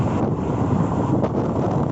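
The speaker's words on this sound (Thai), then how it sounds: "ก็จะเสียงลมหน่อยนะครับ" Steady, loud wind rush buffeting the microphone throughout while riding a motorcycle home on an open road, a continuous low roar with no pauses.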